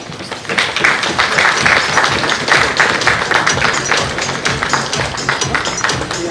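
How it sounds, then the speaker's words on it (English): Steady, dense applause from a large audience at an awards ceremony for a multi-speciality hospital. The clapping is loud and continuous throughout, with no break. "We'll give them a big round of applause"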